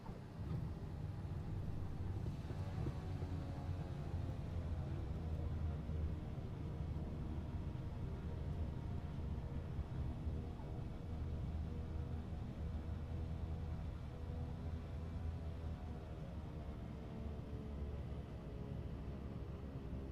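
Twin turboprop engines of a Blacksquare Turbine Duke aircraft in Microsoft Flight Simulator 2020 drone steadily in flight, a loud continuous low rumble with a faint rising whine, no voices.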